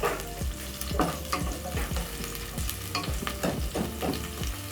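Onions frying and being stirred in a pan for a pork wet fry, with a steady sizzle broken by repeated scraping strokes of a spoon, close and fairly loud with no talking.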